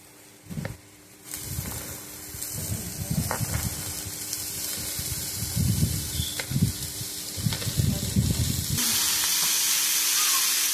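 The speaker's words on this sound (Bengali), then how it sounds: "এবার কুচিয়ে রাখা শাকগুলো আমি দিয়ে দেবো।" Chopped sonchi greens go into a hot pan and set off a broad, steady sizzling hiss that swells louder near the end, with soft thumps and rustles of handling underneath, close by and without talk.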